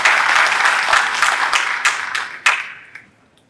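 An audience of students, faculty and staff claps at a global supply chain excellence event: a dense, close burst of applause with a few sharp individual claps that thins out and fades away by the end.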